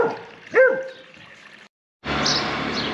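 Dogs bark near a cottage on a village walk in Devon, with a couple of sharp, close barks and a whimper, then a short silence before a louder burst of noise.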